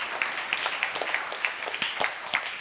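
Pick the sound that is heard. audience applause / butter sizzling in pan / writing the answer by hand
audience applause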